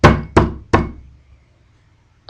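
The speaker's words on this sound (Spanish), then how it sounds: "golpearon a la puerta de la calle." Knocking on a street door: three loud, close, evenly spaced knocks, each ringing out briefly, then near silence and the start of a fourth.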